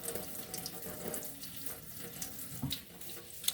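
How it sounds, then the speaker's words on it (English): Kitchen tap water runs steadily over a skinless tilapia fillet held in a sink, a continuous close splashing stream with small spatters and no talking. "I just run the water across it and wash it like I'm washing my hands"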